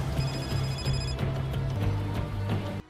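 Telephone ringing in a film scene as a contract goes out to hitmen's phones, a continuous jangling bell-like ring with a rhythmic pulse under a low steady background, cutting off abruptly at the end.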